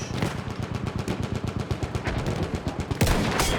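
Rapid automatic gunfire in the video game Battlefield 1, a dense, evenly spaced burst of loud shots running nearly the whole time, with a heavier blast near the end.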